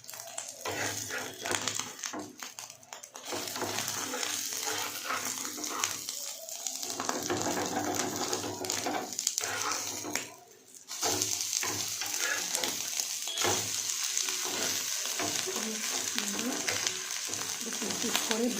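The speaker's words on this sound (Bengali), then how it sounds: "ডিমটাকে উল্টিয়ে পাল্টে ভেজে নিচ্ছি," An egg frying in a pan and being turned over, giving a steady, dense sizzle that runs almost throughout, with brief stirring scrapes and a short dip partway.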